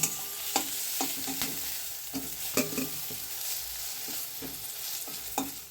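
Eggplant fries in hot oil with a soft, continuous sizzle, punctuated by several light knocks and scrapes of a utensil turning the pieces in the pan.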